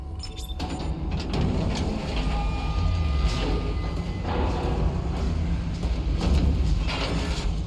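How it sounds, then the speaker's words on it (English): Tram in the Dead Space Remake game rumbles and clanks while moving, a loud, continuous mechanical drone with metallic squeals and thuds layered over deep low-end rumble, no speech. "I think this is a tram, right?"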